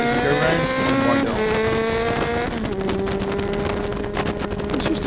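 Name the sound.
Kawasaki GTR1400 motorcycle accelerating on track at Oulton Park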